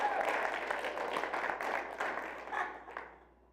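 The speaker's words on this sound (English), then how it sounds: "We can clap on that." A congregation gives a gathering a quiet round of applause, soft dense clapping heard from a distance that fades away over a few seconds, with a voice faintly underneath.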